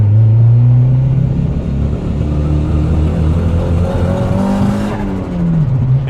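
A turbocharged Honda Civic engine misfiring while driving, a loud steady droning rumble with uneven stumbling and a pitch that wavers and dips near the end, heard from inside the car without talk.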